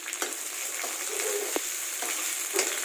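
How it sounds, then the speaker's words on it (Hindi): Onions and green chili fry in a pan with a steady hiss of sizzling oil, close and constant, broken by a few sharp stirring clicks. "प्याज को अच्छी तरह से भूनेंगे।"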